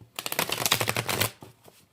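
A large tarot card deck is shuffled close up in one quick, rapid fluttering burst lasting about a second, then it stops.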